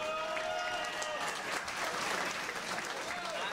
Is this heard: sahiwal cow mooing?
no